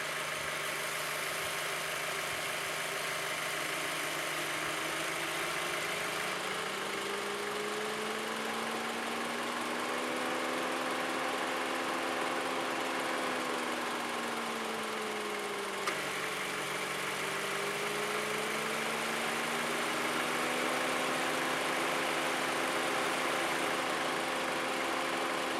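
A 2004–2009 Mazda 3 engine idles steadily while its A/C compressor cycles on and off, shifting the drone up and down in slow waves; a constant close hum with no talk.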